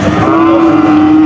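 A cow at a rural cattle market near the border moos in one long, steady, loud call, close at hand and filling the whole moment.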